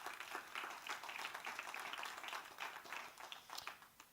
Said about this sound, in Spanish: Den un aplauso fuerte al Señor en esta mañana.